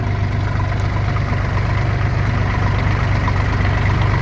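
A tractor engine runs steadily and loudly, close by, as it works through wet mud and water in the desert, with a constant low rumbling drone throughout.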